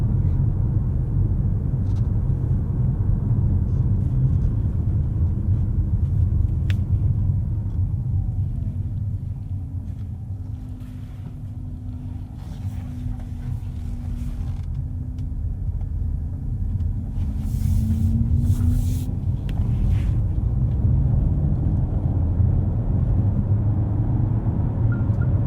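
Dacia Bigster Hybrid car cruising at night, a steady low road rumble and tyre drone from inside the cabin, with a faint rising and falling whine from the electric drive and no talking.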